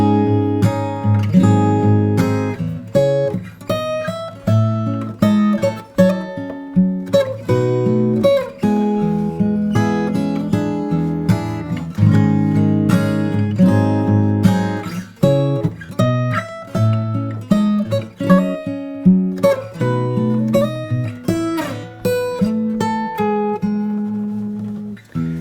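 A fingerpicked solo guitar version of a song moves through the higher-octave B section, ringing melody over moving bass notes, clear and close without any talking.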